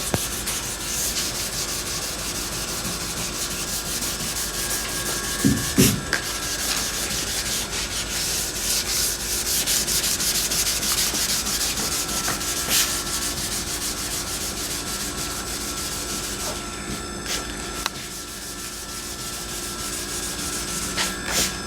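Steady, close scrubbing of a hand block with 600 grit sandpaper over the body and roof of a 2021 Charger Magnum Hellcat wagon build, continuous and rhythmic with a few brief knocks, no talk.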